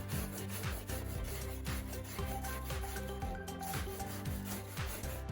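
Rust being sanded off a BBQ grill by hand with 60 grit sandpaper, a quiet, steady rasping rub in repeated strokes, with no talking.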